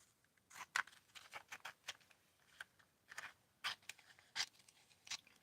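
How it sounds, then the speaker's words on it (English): Scissors snipping through paper close up in a quiet room, a series of crisp, irregular cuts and rustles, soft and intimate with no talking. "Listen to the sound of the scissors making paper"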